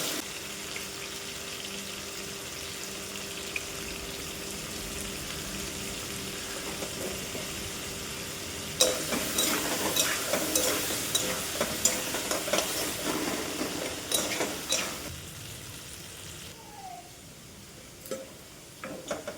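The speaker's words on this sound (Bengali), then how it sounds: "আলু ভাজবো, আলুটা ভেজে নিই" Potato pieces frying in a little oil in a wok, a soft continuous sizzle that grows louder and busier midway, with scattered stirring scrapes and no talk.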